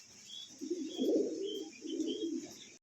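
Soft, low cooing of a pair of racing pigeons in two rolling bursts, close by, with faint higher bird chirps in the background and a steady hiss.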